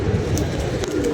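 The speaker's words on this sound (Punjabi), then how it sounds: "ਕਬੂਤਰ ਬਾਹਰ ਨੇ ਮਾਸ਼ਾਅੱਲਾ" A flock of kept pigeons coos outside, some perched and some flying from the loft, in a steady, close murmur with no voices.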